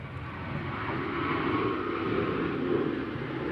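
A Ryanair jet at Manchester Airport gives a steady, moderately loud engine rush that swells slightly in the middle, with no talking over it.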